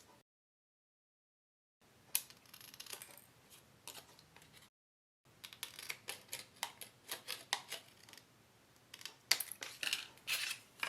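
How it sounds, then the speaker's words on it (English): Scissors trim excess paper flaps from a photo folio during a papercraft assembly, giving a run of quick, close snipping and crisp cutting clicks in uneven bursts, separated by brief pauses. "take our scissors and just trim along the edge to cut off these two excess flaps"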